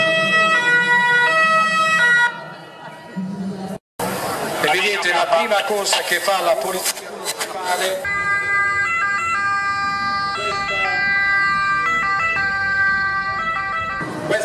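An ambulance siren at a road-safety event with municipal police, a loud wailing tone near at first, then rising again strongly after a short gap while someone talks over it.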